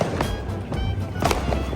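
Small Diwali firework shots go off outdoors in quick succession, a series of sharp cracks and pops over a constant hissing, fizzing burn, fairly close and loud, with no clear talk.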